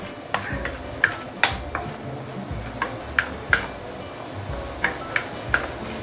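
Braised chicken ingredients sautéed in a pan: irregular clinks and taps of a utensil against the pan over a soft, low sizzle, close by with no talking.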